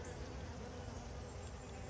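VSH honey bees buzz steadily around an open hive, a dense, continuous drone of many insects heard up close and fairly faint.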